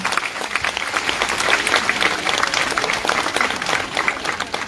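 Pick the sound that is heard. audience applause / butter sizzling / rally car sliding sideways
audience applause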